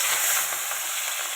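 Shrimp coated in chili powder fries in hot oil in a pan, a loud, steady, close crackling sizzle with no voices.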